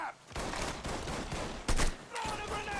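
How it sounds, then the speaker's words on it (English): Gunfire in the Mafia 3 video game: a rapid fusillade of shots crackling loudly in bursts, with one sharper, closer blast near the end. "Who the fuck is shooting?"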